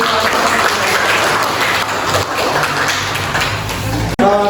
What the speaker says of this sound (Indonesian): tepuk tangan buat Eslin dan kelompok